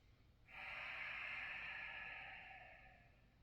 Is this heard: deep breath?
yes